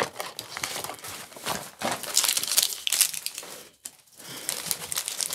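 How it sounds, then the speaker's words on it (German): A hand rummages in a plastic bag of wax melts, giving loud, close crinkling and rustling that comes in bursts with a short quiet gap. "dann muss man nochmal in die Tüte greifen"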